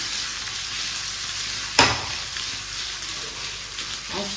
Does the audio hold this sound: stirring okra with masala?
yes